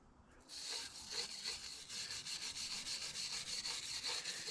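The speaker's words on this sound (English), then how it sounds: "the brush that I'm using is a brass bristle brush" A brass bristle brush is scrubbed across the metal surface of a 6.7 Cummins engine block, giving a steady, close, rhythmic scratching rasp with repeated strokes and no speech.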